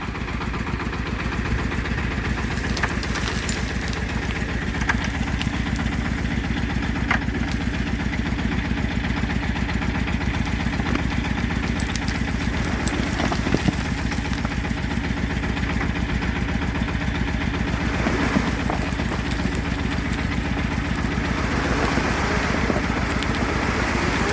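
A tractor engine idles steadily while a dump trailer's tipping body rises under load, a continuous even mid-low rumble with a regular throb, close by and alone for the whole stretch.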